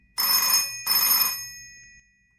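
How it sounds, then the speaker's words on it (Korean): An old telephone bell rings twice in quick succession, each burst a bright metallic jangle of about half a second, close and clear in a quiet room with no talk. "잠시 후 다시 들려오는 전화벨 소리"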